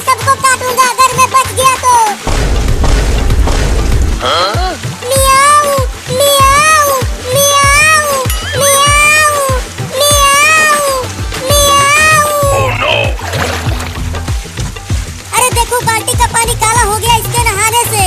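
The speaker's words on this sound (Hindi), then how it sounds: "मियाऊ, मियाऊ।" A cat meows repeatedly in rising, wavering calls that come in close bursts with brief gaps, loud and near, while a rumbling splash-like noise briefly fills the low end early on.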